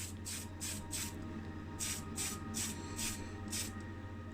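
Short bursts of Tamiya Fine grey primer from an aerosol can onto the inside and underside of a 1981 Matchbox 4x4 Jeep model, about seven hissing sprays in an uneven rhythm, each lasting around a third of a second, over steady room hum.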